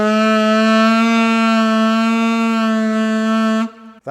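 Saxophone sustaining a G for nearly four seconds with audible wobble, the pitch and brightness wavering slightly through the note before it stops abruptly; close, loud and alone.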